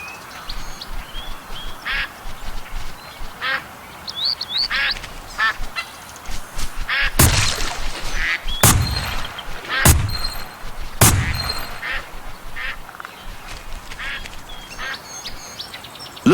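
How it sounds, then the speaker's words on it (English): Ducks in the Duck Dynasty (2014) video game quack repeatedly during a duck hunt, with four sharp, loud shotgun blasts in the middle and more quacking after. "call ducks in for him to shoot"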